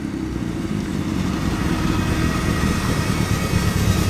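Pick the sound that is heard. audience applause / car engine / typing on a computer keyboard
car engine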